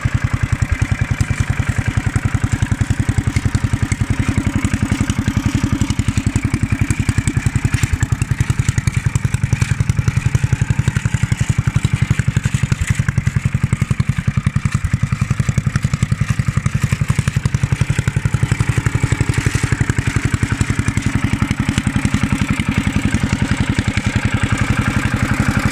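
A BCS three-wheel petrol finger-bar hay mower, 14-inch wheels, runs steadily in reverse gear, its engine chugging loudly and continuously up close with a rattling clatter and no talk throughout.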